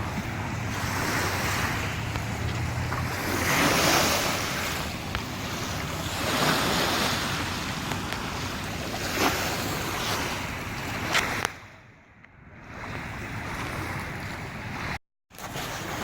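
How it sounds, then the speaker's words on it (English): Steady rumble of a boat moving across open lake water toward a canal entrance, waves washing and wind buffeting the microphone, ending with a sudden drop to near silence. "the boat's getting close to entering the canal now"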